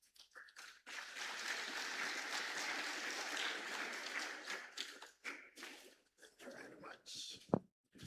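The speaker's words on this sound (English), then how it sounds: "Let's give him more claps." A conference audience of principals claps in a sustained burst of applause lasting several seconds, then it thins into scattered claps with voices speaking in between.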